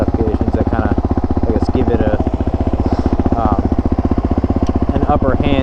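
A 2018 Suzuki DRZ 400 motorcycle idles close up with a steady loud thumping rhythm, while a person talks over it.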